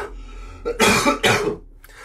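A man gives two hard, close coughs in quick succession, loud and wet, after a brief throat sound and a short quiet breath.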